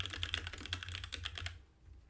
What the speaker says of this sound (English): Listen to that typing ASMR.